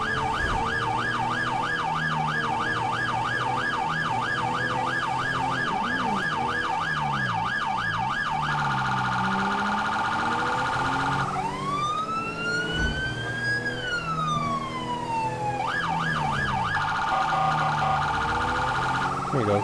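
Police car siren wailing continuously in GTA V with the LSPDFR mod, shifting between rapid yelp and slower wail cycles, loud and close over steady engine and road noise throughout.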